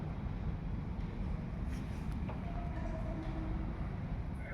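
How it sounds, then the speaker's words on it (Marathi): A Western Railway train runs past below, a steady low rumble with faint rail clatter that holds for the whole stretch and sounds somewhat distant. "पश्चिम रेल्वे बघा खालून चालली आहे"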